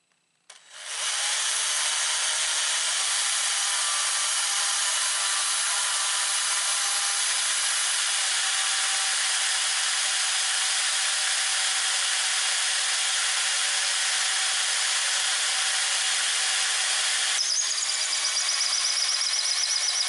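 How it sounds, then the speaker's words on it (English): A hand drill pre-drills a hole into a long wooden handle for a chopping tool, giving a steady, continuous whirring and grinding for about twenty seconds, loud and close with no talking. "I'm going to have to use a hand drill and pre-drill this hole"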